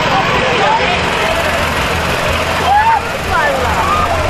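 A Belarus tractor's diesel engine drones steadily nearby with a low rumble and rattling, while people talk over it.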